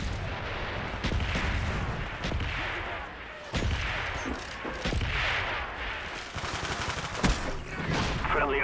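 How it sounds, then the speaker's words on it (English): Mortar strike explosions and gunfire rumble through a Call of Duty Black Ops team deathmatch on Nuketown, with sharp blasts landing roughly every second over a dense, continuous battle din. "Mortars inbound."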